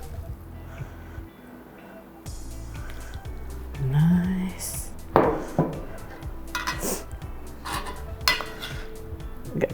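Dishes and cutlery clink in scattered bursts while puttanesca-style tomato and basil pasta is plated into a small bowl, with talk heard intermittently over the kitchen clatter.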